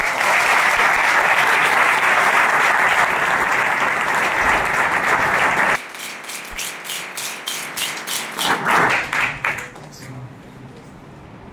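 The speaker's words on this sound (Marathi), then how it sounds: "जोरदार टाळ्या" A crowd applauds a woman newly selected as police sub-inspector, with sustained loud clapping for about six seconds that then thins into scattered, separate claps and fades out.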